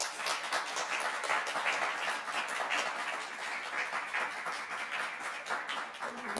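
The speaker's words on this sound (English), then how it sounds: "I don't know if you can hear the applause in the room" Applause from an audience in a lecture room after a linguistics colloquium talk, a dense, steady patter of many hands clapping continuously at moderate volume, heard from a short distance without speech over it.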